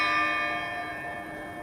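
A tall church bell at St. Sophia Cathedral in Kyiv rings with a rich, sustained metallic tone that slowly fades over a couple of seconds, heard alone.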